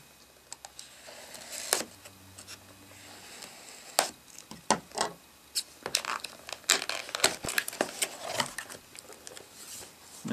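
The cardboard box of a Logitech K400 wireless touch keyboard is opened close up, with a rapid, irregular run of crinkling, tearing and sharp clicking handling sounds, some stronger bursts among them, and no voices.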